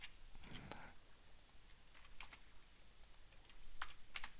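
Quiet typing on a computer keyboard, with a few scattered clicks and short key runs at low level in a quiet room.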